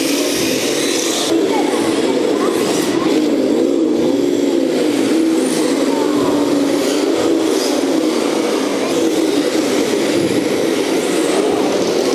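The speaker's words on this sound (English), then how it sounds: "That Camara's got an engine sound to it, it's pretty cool." A radio-controlled Camaro converted into a drift car gives off a steady, close engine sound that keeps up for the whole stretch without a break, with no talk over it.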